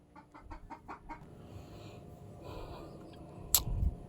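A chicken gives a quick series of about five rhythmic clucks close by, followed by quieter fowl murmurs and a sharp sudden noise near the end.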